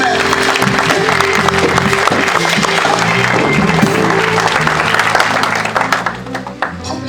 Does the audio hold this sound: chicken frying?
no